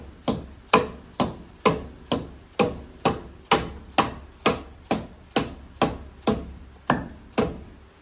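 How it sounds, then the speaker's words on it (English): A dead blow hammer taps an engine part during an in-frame rebuild of a John Deere 4440 tractor engine, giving about fourteen evenly spaced, loud, close thuds with short decays over eight seconds. "My dead blow."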